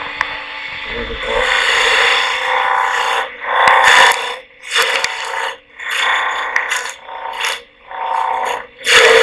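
A flat scraper tool cuts into spinning wood on a lathe, giving a loud rasping, scraping drone in repeated strokes that briefly stop and start again, close and alone.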